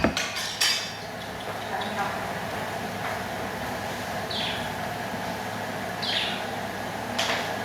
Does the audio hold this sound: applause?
no